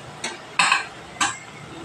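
Coriander leaf pakoras (dhone patar bora) frying in a pan and being turned, heard as three short, close scraping clinks of a utensil against the pan over a faint background hiss.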